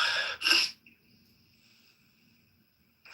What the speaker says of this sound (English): Look at me sneezing away here.